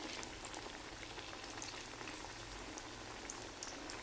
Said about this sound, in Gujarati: આપણી ટિક્કી તળાઈ રહી છે.